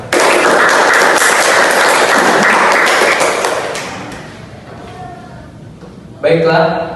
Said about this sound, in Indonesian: Beri dia tepuk tangan.